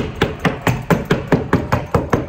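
Wallpaper on a bedroom wall being perforated before soaking during a renovation, about ten sharp, evenly spaced tapping strikes close by, in a steady quick rhythm with no talk.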